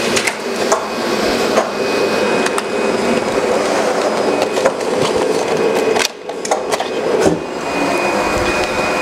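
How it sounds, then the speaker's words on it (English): A JWEI digital cutting machine slices E flute corrugated board, giving a loud, steady mechanical whir with rhythmic rattling and knocks and one brief pause partway through. "then machine will do the cutting job"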